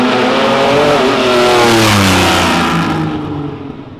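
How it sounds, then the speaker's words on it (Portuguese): A Lamborghini Diablo drifting sideways along a city avenue, its engine roaring loud and close with rising, revving harmonics, then receding slightly as it passes. "A gente já até gravou ele saindo de lado uma vez aqui na Avenida Europa"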